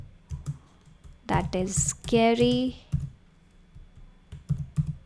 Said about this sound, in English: here I'm going to type the email message